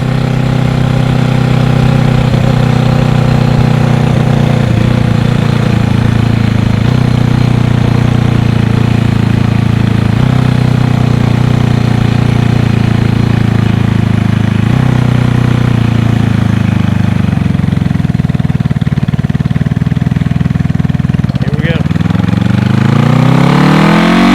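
A Honda CB360 motorcycle cruises in sixth gear. The engine's loud, close, continuous drone holds steady the whole time, then eases off slightly near the end.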